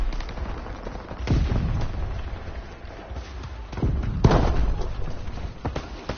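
Call of Duty: WWII battle gunfire with sharp rifle shots and heavier booming reports, irregular and spread out over a constant rumbling war din, some shots close and others distant.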